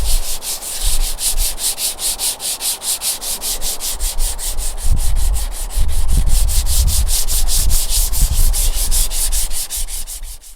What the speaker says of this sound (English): I'm going to start off with various grades of sandpaper.